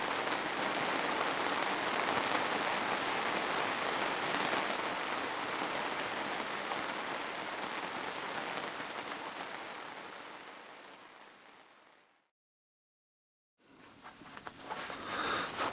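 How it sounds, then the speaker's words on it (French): Steady rain falls on a boat moored at anchor, a dense, close hiss of drops pattering on the deck that breaks off into brief silence before resuming just as heavily. "Et maintenant c'est la pluie."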